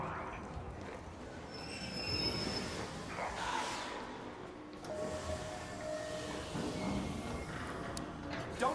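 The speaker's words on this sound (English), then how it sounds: "train is coming." Video game train drawing near on its tracks, with a steady rumbling roar and high squealing wheels rising and fading over several seconds, loud and close, with no clear talking.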